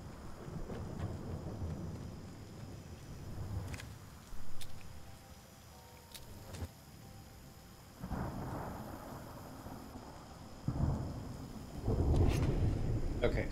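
A thunderstorm rumbles through the survival game Smalland: Survive the Wilds, with low rolling thunder and steady rain swelling in bursts and a voice talking over it.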